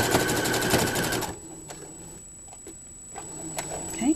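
A sewing machine stitches a ruffle onto a pair of pants, running fast and rattly for just over a second before stopping, leaving a quiet room with faint clicks and handling noises.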